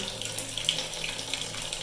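Water runs from a tap fed through a gas geyser set on high, a steady close splashing stream into a sink with faint hissing throughout and no voices.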